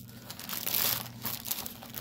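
Paper crinkles and rustles as it is handled while a store-stamped cross stitch kit is unpacked, giving a close, steady crackling texture that runs for about two seconds with brief louder crunches.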